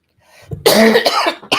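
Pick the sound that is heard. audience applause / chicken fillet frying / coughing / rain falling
coughing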